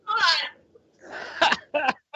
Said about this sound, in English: Followed by the regular cough.